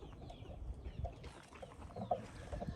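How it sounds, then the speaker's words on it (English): A hen laying an egg gives a few soft, irregular clucks at a distance amid quiet outdoor ambience, with other birds faintly audible. "That's just a chicken that's actually laying an egg."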